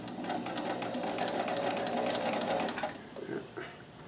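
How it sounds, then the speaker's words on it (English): Kenmore 158.1914 sewing machine running a straight stitch back and forth, a steady rapid needle clatter that slows and stops near the end, close but quiet. "we'll put it on straight stitch. And this should go back and forth."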